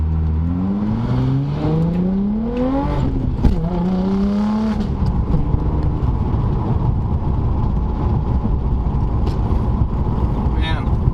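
An Audi B5 S4 engine revving under throttle while not boosted, rising and falling in pitch early on before settling into a sustained loud drone, close to the microphone.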